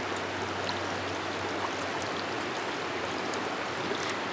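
Small creek feeding a river, shallow water flowing steadily in a continuous broadband rush and trickle, fairly close, with no voices.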